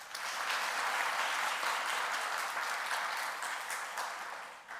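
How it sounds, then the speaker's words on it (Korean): A church congregation applauds during a worship service, a dense, even burst of clapping that swells quickly and holds steady for several seconds before tapering slightly. "하나님께 감사와 영광의 박수 해주시기 바랍니다"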